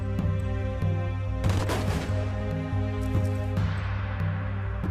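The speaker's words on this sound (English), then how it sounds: "They are executed by firing squad." Gunfire from a firing squad at executions, heard as loud bursts of rifle shots over a steady droning music bed, with a dense volley near the middle and another toward the end.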